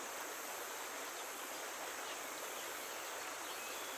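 A river stream flows through a mountain forest, a steady, soft rushing hiss that holds evenly throughout with no voices or other distinct sounds.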